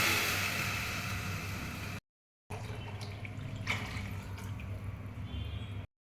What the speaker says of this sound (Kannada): ಅದಕ್ಕೆ ಎರಡು ಬಟ್ಲು ನೀರು ಹಾಕ್ತಾ ಇದ್ದೀನಿ